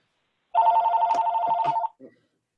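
A telephone rings during a planning and zoning meeting, giving a single steady electronic tone of about one and a half seconds, close and clear, followed by a brief fainter blip.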